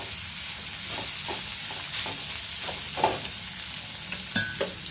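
Onion pieces fry in a pan with cabbage, a soft steady sizzle broken by occasional spatula stirs and scrapes, close and fairly quiet with no talking.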